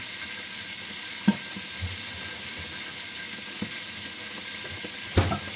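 Milkfish (bangus) frying in a pan, a steady hissing sizzle with a few soft pops and clinks, close and continuous.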